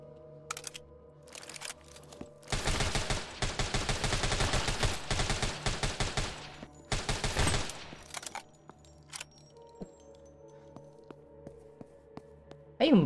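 Automatic gunfire from the zombie shooter game Deathly Stillness, a sustained rattling volley of rapid shots for several seconds, a short pause, another burst, then quiet game ambience with scattered clicks and a final shot.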